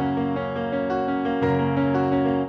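Piano playing a passage of four-note chords from a Schubert Impromptu, with the top melody note not brought out so it blends evenly into the chord; steady repeated chords, close and moderately loud, with no talking.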